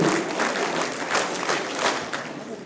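Audience applause at a National Voters' Day award ceremony with the state governor attending, a steady dense wash of clapping filling the hall throughout, fairly loud with faint voices mixed in.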